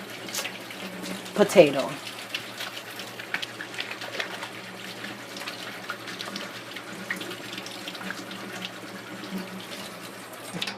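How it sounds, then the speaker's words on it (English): Hands washed under a running kitchen tap while cooking ackee and saltfish, a steady close stream of water with splashing and trickling, a voice briefly speaking near the start. "So I'm going to wash my hand"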